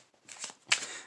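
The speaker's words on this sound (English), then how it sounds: "you'll notice you'll be able to strip out some cards. And these you can just throw right on top." An overhand shuffle of a deck of playing cards: two short, close rustling bursts of cards sliding and slapping together, soft and quick, with no voice.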